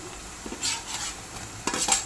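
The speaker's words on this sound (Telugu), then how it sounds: "సన్నగా తరిగిన ఉల్లిపాయలు బ్రౌన్ కలర్ వచ్చేదాకా వేయాలి." Finely chopped onions frying toward brown in a hot pot, a soft sizzle under a few distinct scraping stirs of a spoon, near and moderately quiet, with no talk.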